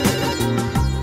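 A phone ringtone playing loud and close, a short melodic electronic tune with steady tonal notes and no voices over it.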